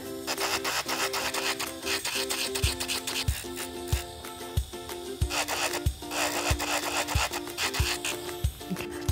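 Sanding band on a nail drill buffing and contouring an acrylic nail, a steady whirring motor with scratchy rubbing and regular soft taps as the bit works the nail surface, close and continuous.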